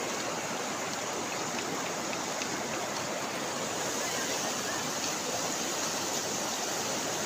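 A river swollen by monsoon rain, flowing in flood near a village, gives off a steady, full rushing roar like a stream or waterfall, unbroken and fairly close throughout, with no voices.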